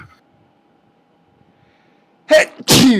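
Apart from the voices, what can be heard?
sneeze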